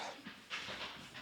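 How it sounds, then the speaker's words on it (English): A dog jumping around pants in quick, breathy bursts close by, with soft scuffling movement and a sharp click at the end. "That's my dog jumping around."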